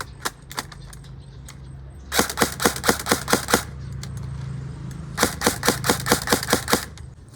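A BB gun SCAR-L rifle fires in rapid bursts, two strings of about seven to eight sharp cracks each plus scattered single shots, loud and close against a low steady hum.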